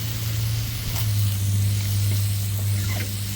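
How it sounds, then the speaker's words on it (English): Water spray hisses steadily as it rinses a freshly sawn black walnut board at a sawmill, a close, constant spray over a low steady machine hum. "I'm rinsing."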